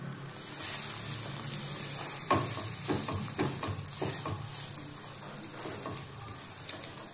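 A double-egg omelette fries in a generous amount of oil, giving a steady soft sizzle and crackle with occasional spatula scrapes and taps close by and no talk.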